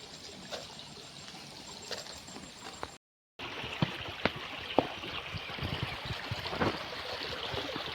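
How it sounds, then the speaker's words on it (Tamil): Water flowing under a bridge on the Alathur river trickles and splashes steadily in the open air, with a brief dropout partway through and a few sharper splashes afterward. "தண்ணி ஒழுதுகிட்டே தான் இருக்குது."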